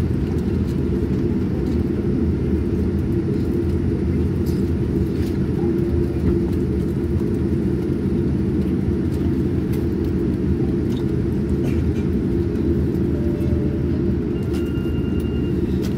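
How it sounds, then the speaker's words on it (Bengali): A Boeing 787-9 airliner taxis along the runway before takeoff on a Sylhet to Dhaka flight, a steady, loud, low engine rumble and roar that holds unbroken throughout, with no voices. "বিমানটা উড়ার জন্য প্রস্তুতি নিচ্ছে। এখন উড়বে না, এখন রানওয়ের শেষ দিকে যে একটা মোড় নিয়ে ঘুরে তারপর উড়াল দিবে।"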